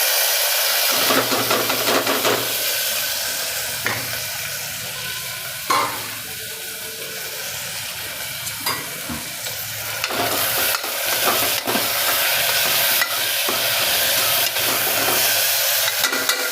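Fenugreek leaves hit hot oil with browned garlic in a pan for a Gujarati lasan methi shaak, giving a loud, steady sizzle with repeated scraping stirs throughout.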